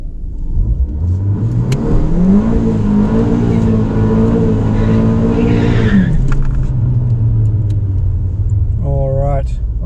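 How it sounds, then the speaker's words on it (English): A Revo Stage 2 tuned car does a burnout at a quarter-mile drag strip. The engine revs climb and hold at a loud, steady high note for several seconds, then fall back to idle, with a voice heard briefly. "Run number 6, getting ready for the burnout."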